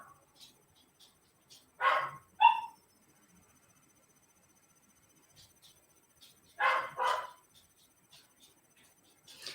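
Dogs bark in two short bursts, each a pair of sharp barks from a little distance, separated by quiet stretches in an otherwise calm room.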